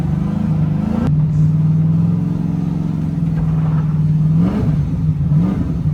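An LS-swapped BMW drives on a slick icy corner, its V8 engine droning steadily with a deep rumble and a rising rev near the end, loud and close throughout.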